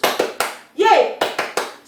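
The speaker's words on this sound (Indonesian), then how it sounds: "boleh ingin kalian tepuk Yesus dulu ya" Children in a church Sunday school clapping along to a chant, sharp rhythmic hand claps in quick bursts mixed with children's chanting voices, close and lively.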